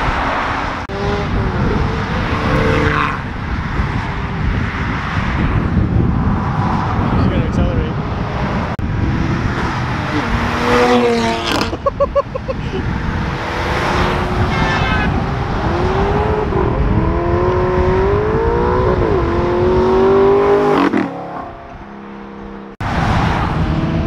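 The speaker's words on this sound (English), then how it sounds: "Some cars are about to do drive-bys." Cars at a supercar meet roar past one after another, engines revving and rising in pitch as they approach and drive by up close, with people talking throughout.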